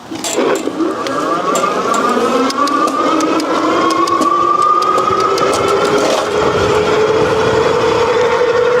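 Otida RX80 3000W electric fat tire bike with 26 by 4-inch all-terrain tires accelerating hard, a loud motor whine climbing steadily in pitch under wind and tire noise.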